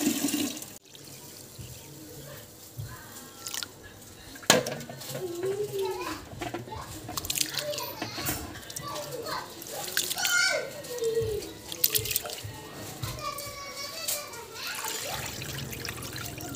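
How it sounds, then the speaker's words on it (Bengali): Uncooked rice being rubbed and washed by hand in water for pulao, sloshing and splashing in repeated bursts with birds and voices heard around it. "মা চালটাকে দেখলাম বেশ ভালো করে কচলিয়ে দুইবার ধুয়ে নিল।"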